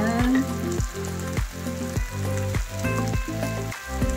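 Pinakbet with prawns sizzles loudly in a pan, with steady frying hiss broken by regular scraping stir strokes roughly every half second, close and without speech.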